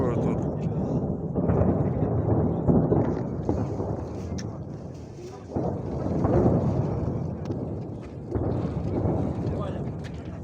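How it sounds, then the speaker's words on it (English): Explosions in war footage sound as distant, heavy rumbling booms that roll in repeated waves, with muffled voices underneath. "you can hear that there are explosions in the background"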